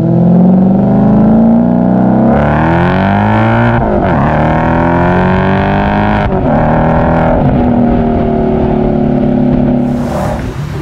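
B6 Audi S4 with a straight-piped exhaust, driving with a loud, close engine note that rises through the revs, dips at gear changes and climbs again, with no talking.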